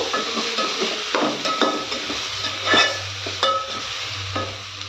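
Egg rice is stirred and mixed in a hot pan: repeated scraping and spatula knocks over a continuous frying sizzle, close and fairly loud, in an irregular stirring rhythm.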